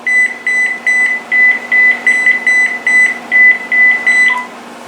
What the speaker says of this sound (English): Let's try that again by pressing the flash find handset button.